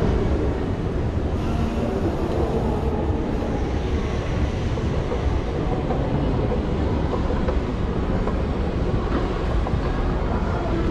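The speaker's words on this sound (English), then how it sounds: "I'm gonna take the tram now to Terminal 5" Continuous loud rumble of an airport tram rolling along tracks, a steady droning roar with faint rhythmic clacking and no speech.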